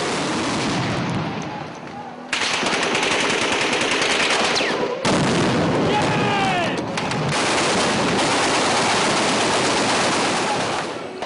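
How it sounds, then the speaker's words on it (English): A heavy, continuous barrage of machine-gun fire roars on, dense overlapping bursts with short breaks, loud and chaotic. "Then a deluge of gunfire."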